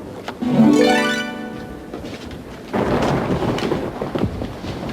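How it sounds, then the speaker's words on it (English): Thunder rumbles and a rising whistle-like tone passes early, then heavy rain pours in a dense, continuous wash for the rest, fairly loud. "Much more of this rain, we could have trouble."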